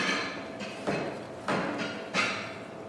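A knife cuts through cooked beets on a flat surface, giving three or four dull, close thuds against the board over a soft background hiss.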